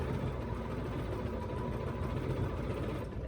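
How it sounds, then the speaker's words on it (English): Steady mechanical whir of a Bernina sewing machine with a stitch regulator, free-motion top stitching raw-edged appliqué; a continuous, even drone running close and unbroken throughout, with no talking. "I actually am using my Bernina with my stitch regulator, and I am free motion top stitching this."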